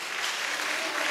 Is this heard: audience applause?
yes